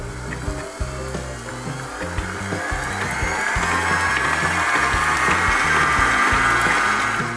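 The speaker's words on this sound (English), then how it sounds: "So we start by putting the butter and the cream cheese together and whipping that all up." An electric mixer whips butter and cream cheese for cupcake icing, a continuous loud motor whir with a rising high whine and rhythmic churning pulses, running alone throughout.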